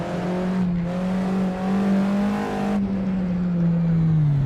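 A race car engine in a VR touge racing game drones at steady high revs along a mountain road, loud and close, its pitch easing slightly and then dropping as the car slows.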